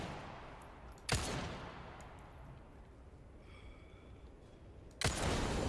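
Two sharp gunshots, about four seconds apart, fired at a pulsing nest in Resident Evil 4, each a sudden loud crack over a low, steady background hum.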